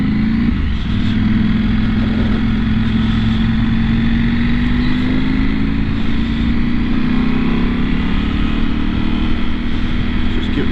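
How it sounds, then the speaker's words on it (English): A KTM 790 R Adventure motorcycle engine runs loud and close, its pitch rising gradually as the revs climb through the stretch, with wind and road noise and speech over the engine. "Just give it a few more revs"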